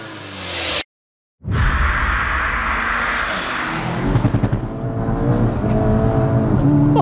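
A 500 bhp Skoda Octavia vRS sleeper accelerating hard with wheel hop, a loud engine roar and whooshing rush after a short dropout, with a rapid juddering pulse as the tyres hop, no voices.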